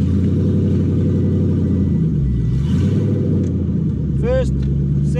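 A Toyota Supra Mk3 with a swapped-in 1UZ-FE VVTi V8 idles steadily with a deep, continuous rumble up close, while someone talks excitedly over it.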